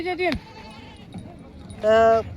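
Two loud goat bleats at a goat market, one at the start and another near the end, close by over quiet background murmur.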